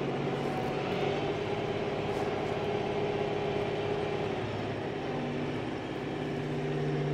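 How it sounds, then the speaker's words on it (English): Kioti tractor engine running in a steady loud close drone that holds constant, with its RPMs rising as the forward pedal is pressed. "As we press harder on that forward pedal, you're gonna notice our RPMs rise."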